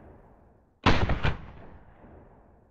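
A WOG HK33 A1 airsoft rifle fires in one sharp, loud burst of about half a second, with a couple of quick reports close together, then a quiet tail.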